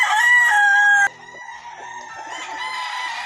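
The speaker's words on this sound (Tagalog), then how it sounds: "Daming manok." Gamefowl roosters at a breeding farm in Mabini, Batangas: one loud, close crow ends abruptly, followed by fainter crowing and clucking from other birds farther off.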